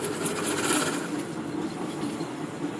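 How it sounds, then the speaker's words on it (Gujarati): A steady mechanical whir and rattle of a machine winding kite string onto a spool, running continuously at an even level without speech. "મશીનથી ભરાય જાય આ રીતે દોરી"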